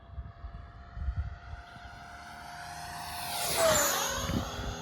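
A Freewing F-4 Phantom radio-controlled jet with a 90mm ducted fan makes a full-throttle speed pass. Its whine grows louder as it approaches, then drops sharply in pitch as it roars past nearby, with faint outdoor rustle underneath.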